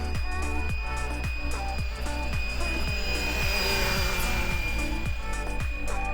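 A Fly Wing BO-105 RC helicopter flies during a speed test. Its rotor chops in a steady rhythm under a high, whining motor tone, and the sound holds close and loud throughout.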